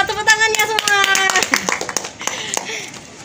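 Applause from an audience at a presentation event, a quick burst of clapping under a woman's spoken introduction that thins out over a few seconds.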